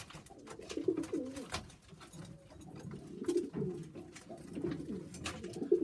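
Sheffield Tippler pigeon cooing softly in repeated low, throaty phrases, fairly close, with faint background rustle and no talking.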